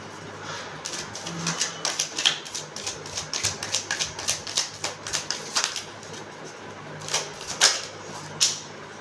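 Tarot cards shuffled by hand in rapid crisp riffling bursts with sharp flicks, close and steady, one card popping loose near the end, no talk.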